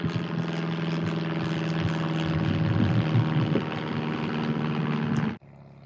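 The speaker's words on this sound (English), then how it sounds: "there's a big old plane coming over." A big plane passes overhead, its engine drone loud and steady with a low tonal hum for several seconds before cutting off abruptly near the end; no talking is heard.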